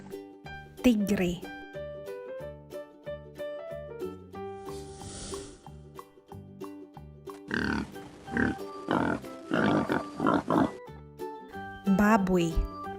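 A pig's oinks and grunts come in a few short, close bursts over a light musical backing in a children's animal-names learning segment, with a spoken voice near the start and end.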